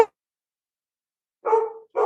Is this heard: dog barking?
yes